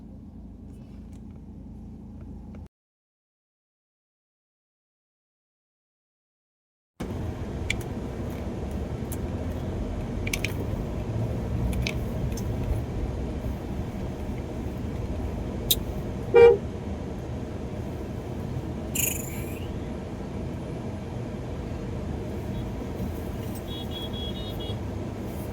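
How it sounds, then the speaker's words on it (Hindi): Road traffic rolls past the Tribune transport chowk in Sector 26, Chandigarh, near a flyover, as a steady rumble of cars with scattered horn toots, one louder honk standing out; the sound briefly cuts out near the start. "तो देखे ट्रैफिक"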